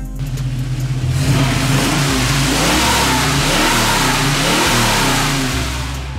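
A car engine revs hard and continuously, its exhaust pipes pointed at the ground and blowing loudly, with the pitch rising and falling through repeated throttle blips, close and steady throughout with no talking.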